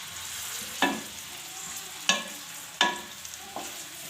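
Sliced onions sizzle gently in a pan with a few sharp stirring scrapes spaced about a second apart, quiet and close.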